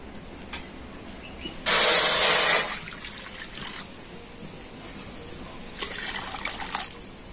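Water poured from a bowl into a wok to make syrup, a loud splashing gush lasting about a second, then a quieter second pour of trickling water with small splashes.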